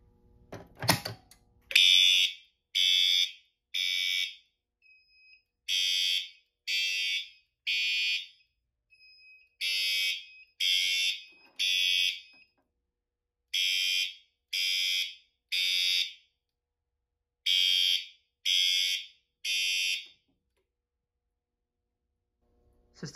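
An FCI 7100 fire alarm system sounds in loud, evenly spaced groups of three harsh electronic horn blasts, repeating in a temporal pattern with gaps between sets, then going silent near the end.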